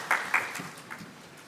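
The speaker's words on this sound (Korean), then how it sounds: "하나님께 감사의 박수 올려드리겠습니다." A church congregation claps in brief thanks during a Sunday worship service, a short, fairly soft patter of hands that fades within a second or two.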